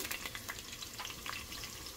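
Chopped onion dropped into hot oil in a pan for creamy green chile chicken with corn, giving a steady close crackling sizzle with bright spitting pops, alone throughout.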